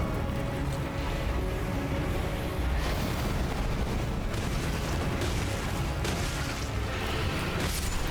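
Explosions and booming blasts in the video game Elden Ring rumble through a rolling, dense stretch of combat noise, with several sharper bursts standing out over the din.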